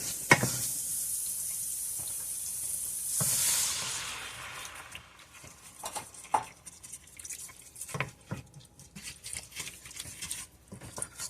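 Water runs into a cooking pot for one-pot pork and noodles with bucatini and bouillon powder, a steady hiss for about three seconds, followed by quieter clinks and kitchen handling sounds.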